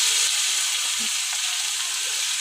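Garlic and cumin seeds sizzle in hot oil in a kadai, a steady close hiss with faint crackle, brief and uninterrupted by talk.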